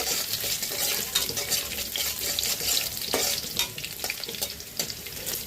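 Garlic, onion and panch phoron fry in hot oil for a dal tempering, a continuous sizzle broken by scrapes and clinks of stirring close by, with no voices.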